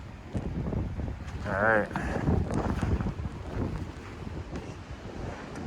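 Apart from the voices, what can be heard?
strong blizzard wind blowing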